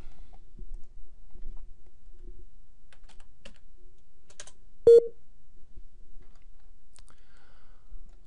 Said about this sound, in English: All with just a few keystrokes and a press of the enter key.